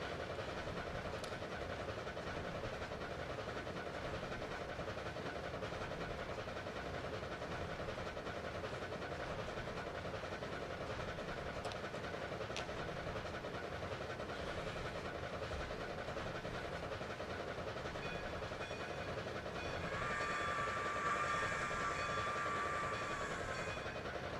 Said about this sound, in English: And then the train.